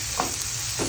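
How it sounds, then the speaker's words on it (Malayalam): Onion, tomato and green chili sauté in hot oil for a spicy prawn dish, with a close, continuous sizzle and two brief scraping stirs of a spoon. "ചൂടായ എണ്ണയിലേക്ക് സവാള, തക്കാളി, പച്ചമുളക് ഇതെല്ലാം ചേർത്ത് വഴറ്റിയെടുക്കാം."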